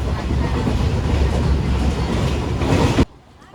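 A train rumbles loudly and steadily along the rails, heard from on board, a dense close roar that suddenly drops away near the end.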